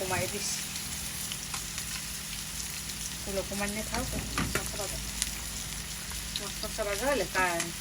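Rupchanda fish sizzles steadily in hot oil, a close, continuous crackle with occasional stirring clinks, while voices talk over it in the background.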